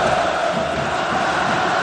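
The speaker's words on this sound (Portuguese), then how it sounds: "A pressão é grande, a torcida canta bonito." Football crowd in a Brazilian stadium during a 2001 Brasileirão final between Atlético Paranaense and Fluminense, a dense, steady roar of massed singing and chanting that fills the whole stretch at constant loudness.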